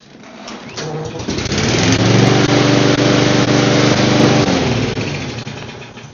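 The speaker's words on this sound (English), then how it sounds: "other than that mower making a big mess in my garage with all the grass, it runs and starts just fine" A small push lawn mower engine runs loud and close with a steady buzzing drone that swells and then eases slightly, in a garage, with no talk over it.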